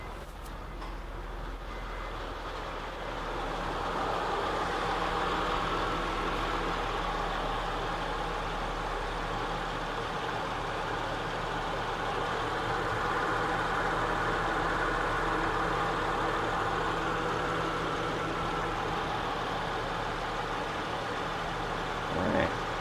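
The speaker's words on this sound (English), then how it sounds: "We'll go ahead and start the vehicle up." A 2006 Honda Ridgeline engine fires up and settles into a steady, low idle, heard close and fairly quiet with no talking.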